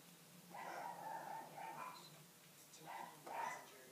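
Dogs barking indoors at people coming to the front door, several muffled barks in two clustered bursts, faint and somewhat distant.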